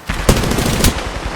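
Rapid automatic gunfire in the Apex Legends video game, a dense close burst of shots with two sharper cracks standing out, loud and continuous across the short stretch.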